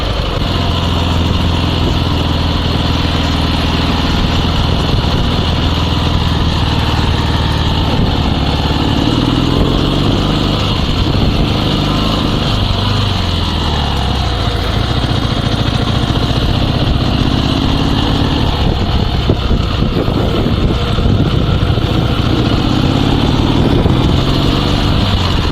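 Dnepr 16 two-wheel-drive sidecar motorcycle engine running steadily and loudly throughout, a close, continuous rumbling drone with slight shifts in pitch as it is ridden, no talking.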